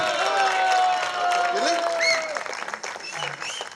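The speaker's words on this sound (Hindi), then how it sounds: "अगर है तो एक तालियां जोरदार बजा दो इनके लिए" An audience at a mushaira poetry gathering in Firozpur breaks into loud clapping that fades after a few seconds, with someone speaking over the applause at the start.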